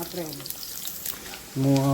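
Coconut oil sizzles and crackles steadily in a pan close by as mustard seeds pop, while a voice speaks briefly at the start and again at the end.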